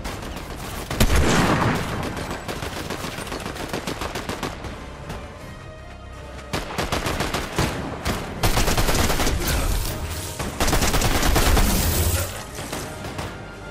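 Gunfire from a weapon in the video game Fortnite, loud rapid bursts of automatic fire in several long strings with short pauses between, close and punchy, with booming impacts mixed in.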